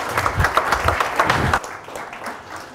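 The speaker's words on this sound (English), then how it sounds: "Big round of applause for Dave and Lynn, our victim." Audience clapping at a talk or presentation, a close burst of rhythmic handclaps for about a second and a half that stops abruptly, leaving quieter room tone.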